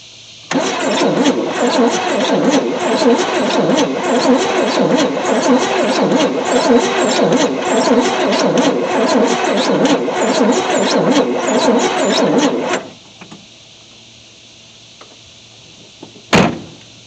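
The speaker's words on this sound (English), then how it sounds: "Alright, well, it cranks. Cranking pretty slow, but it cranks." A 1973 Chevy C10 squarebody pickup, abandoned for 27 years with fuel cut off, cranks slowly and loudly for about twelve seconds without firing, then stops; a single sharp clunk follows shortly after.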